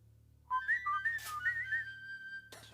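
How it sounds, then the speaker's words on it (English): A whistle blows in a film scene: a single sustained, wavering melodic tone with several quick pitch slides, clear and fairly close over a low steady hum, stopping abruptly. "A whistle."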